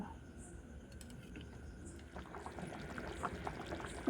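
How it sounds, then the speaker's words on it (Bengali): Hot water is poured into a pot of cooking mutton curry, a soft, continuous splashing pour close by that grows a little stronger halfway through. "যদি আর একটু জল দিতে হয় তো আমি আর একটু জল দিয়ে দেব গরম জল"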